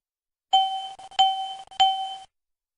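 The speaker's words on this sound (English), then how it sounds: "Why are the red attention getters and triple chime operating in this example?" An aircraft master warning system sounds its triple chime: three clear, bright electronic dings about half a second apart, each ringing briefly before the next, alone with no other sound.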